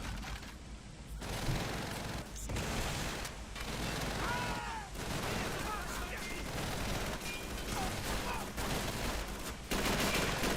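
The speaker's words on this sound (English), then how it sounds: "there's a MG42 up there, and they will shred you pretty bad" Sustained bursts of MG42 machine gun fire and other gunfire in the World War II shooter Call of Duty 3, loud, dense rattling volleys broken by short pauses, with battle noise throughout.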